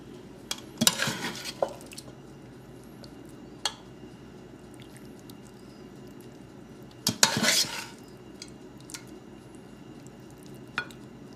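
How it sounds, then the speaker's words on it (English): Cooked chicken biryani meat is spooned onto rice in a pot, giving two bursts of clanking metal utensils and scraping a few seconds apart, with a few light clinks in between, close and without talk. "now I'm going to do the second part, which is layer the meat on top of the rice"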